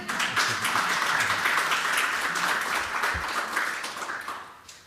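Audience applause at a conference, a dense run of clapping from a seated crowd that holds steady for several seconds, then tapers off toward the end.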